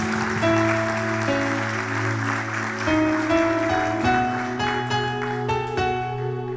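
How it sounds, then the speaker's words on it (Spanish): A church congregation gives the Lord loud applause during a Spanish-language service, sustained dense clapping over sustained organ-like music chords for several seconds. "Dale un fuerte aplauso al Señor."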